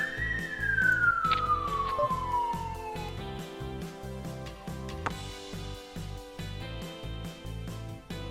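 Passing ambulance siren heard from inside, a loud drawn-out wail gliding downward as it moves away, then fading into a low background hum with a brief sharp click midway.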